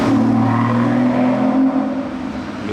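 A V12 supercar engine revs on a Monaco street at night, a loud, steady, close drone that swells and eases slightly over a few seconds with no talking.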